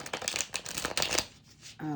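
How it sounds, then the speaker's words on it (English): A deck of tarot cards is quickly riffled and shuffled up close, a busy run of crisp flicking and slapping, after which a voice begins speaking. "let me just do one last quick shuffle"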